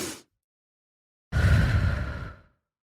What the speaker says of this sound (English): this breath, again, is a double inhale in your nose,